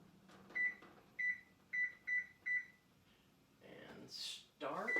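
A kitchen oven timer being set for a squash casserole chirps with five short, crisp, evenly spaced beeps, followed by a brief rustle and a final beep, with a voice speaking at the end.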